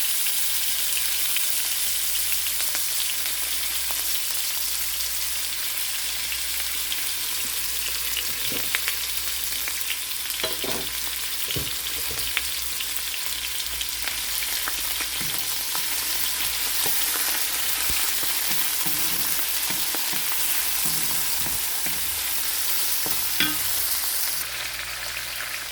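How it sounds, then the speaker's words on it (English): Tomatoes, ginger, red onions and garlic saute together in hot oil, giving a steady, dense sizzle throughout, broken by occasional clinks and scrapes of stirring. "our oil is ready for sauteing. We will just add everything all at once: tomatoes, ginger, red onions, and garlic, all together wonderfully."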